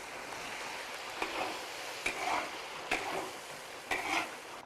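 Pork tails frying in a hot wok as cooking wine is splashed in, a constant sizzle punctuated by a few sharp bursts and scrapes of stirring, no talking.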